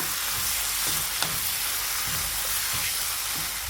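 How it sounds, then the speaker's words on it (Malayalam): Slit green chillies hiss with softened tomatoes in a pan for a potato masala, a steady, dense, close sizzle that stays level throughout with faint crackles and no voices. "തക്കാളി നന്നായി വാടി വന്നിട്ടുണ്ട് ഈ സമയത്ത് ഒരു മൂന്ന് പച്ചമുളക് നീളത്തിൽ കട്ട് ചെയ്തിട്ട് ഇട്ട് കൊടുക്കുക"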